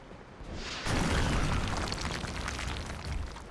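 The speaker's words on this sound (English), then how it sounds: "a rocket is appropriate here, which will also detonate the car next to the mechtoid" In XCOM Enemy Within, a rocket blows up a car: a sudden, loud, boomy blast that swells and rumbles for a few seconds before tailing off, with no talk.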